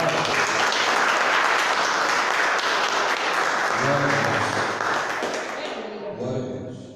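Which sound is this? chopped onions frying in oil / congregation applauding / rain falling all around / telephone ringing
congregation applauding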